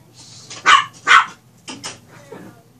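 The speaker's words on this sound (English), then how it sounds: "Can't even talk as my dogs are fighting." Dogs fighting indoors give several sharp, loud barks in quick bursts, then a few softer yips and whines, close to the microphone with a low hum underneath.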